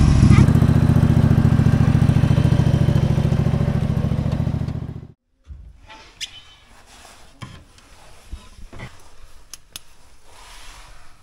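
A Kolsol F02 dumper's engine drones loud and steady for about five seconds, then cuts off, leaving faint clatter and scattered knocks.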